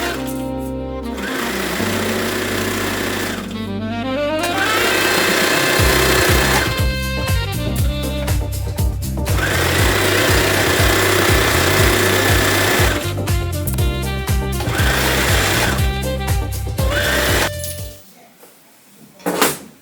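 A sewing machine stitches pieces of dress fabric together in long, rapid, loud runs of mechanical chatter, pausing briefly between seams, with a few soft handling clicks at the end.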